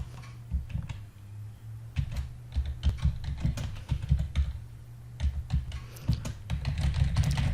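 Typing on a computer keyboard, irregular bursts of clacking keystrokes over a low steady hum, fairly close and moderately loud.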